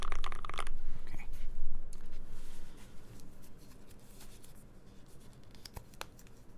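Fingers type on a KBD75 mechanical keyboard fitted with Tealios switches, giving close, irregular clusters of soft clacks and clicks over a light background hiss.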